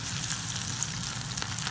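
Shrimp balls fry steadily in hot oil, a dense, even sizzle with a constant crackling hiss and no voices.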